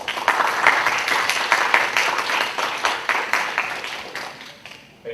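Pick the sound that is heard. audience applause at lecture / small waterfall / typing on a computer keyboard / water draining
audience applause at lecture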